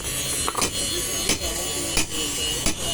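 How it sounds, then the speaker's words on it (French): A hammer shapes metal into rounded balls in a craftsmen's workshop, with sharp, fairly close strikes landing about every two-thirds of a second over a constant background hum. "et avec ce marteau-là, je pense. Et comme ça, on crée des boules comme ça."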